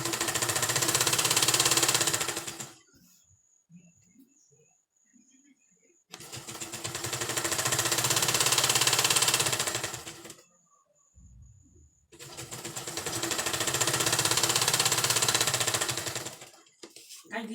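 A sewing machine stitching fabric for a turban runs in three long, steady buzzing bursts of about two to four seconds each, close and fairly loud, separated by quiet pauses with faint handling noises.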